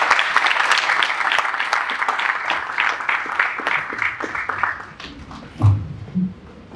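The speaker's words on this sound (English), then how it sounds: "please join me for a big applause for our panelists" An audience at a pension conference session applauds its panelists, a dense burst of clapping that thins out toward the end, with a few louder scattered claps and low thumps at the close.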